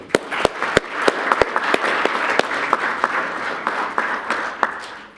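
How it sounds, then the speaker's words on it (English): A small crowd applauds, with scattered sharp individual claps standing out over a steady patter of clapping. "Let's give the project a clap."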